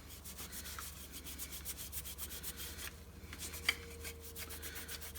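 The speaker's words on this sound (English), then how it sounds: "just give it a wipe over, just to remove some dust that has escaped" Cloth wiping dust off the lens of a Hoover Junior Dirtsearcher vacuum cleaner, a steady close rubbing with quick repeated strokes and no talking.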